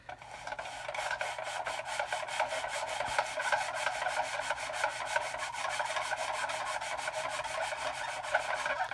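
A 220-grit sanding stick rubs back and forth across thin plastic card in quick, steady rasping strokes, dozens of them in an even rhythm, close and fairly quiet, with no voices.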